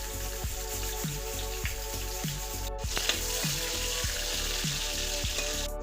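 Ginger, slit green chillies and whole spices frying in hot oil in a pan for palak paneer: a steady, close crackling sizzle with a louder burst partway through as more ingredients go in, and no voices.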